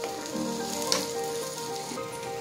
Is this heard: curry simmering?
yes